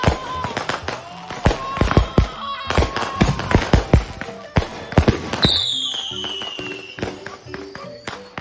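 Fireworks going off in a played clip: a rapid string of sharp, loud pops and cracks, then a whistling firework that descends in pitch, followed by scattered fainter bangs.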